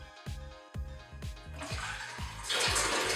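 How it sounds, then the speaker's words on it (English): Water pours into a funnel and flows through it in a steady, close rush that swells louder toward the end, with a few soft low knocks along the way. "When I pour water into the funnel, a current of water flows through."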